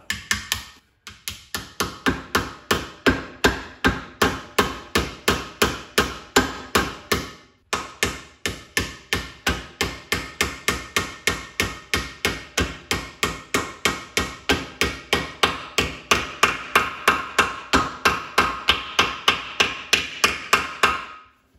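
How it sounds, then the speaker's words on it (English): A long run of sharp metallic hammer taps seating a part during a 9C1 transmission refresh, struck steadily about two per second and close by, with one brief pause before the rhythmic tapping resumes. "I'm just going to carefully take my hammer and seat this guy"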